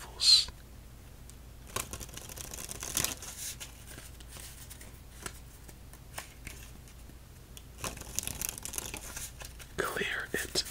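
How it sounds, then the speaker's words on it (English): Playing cards shuffled for a solitaire game in a quiet ASMR setting, with soft close-up riffles and crisp papery bursts, the clearest near the start and toward the end, low and intimate against a faint background hum. "Let's go two more shuffles."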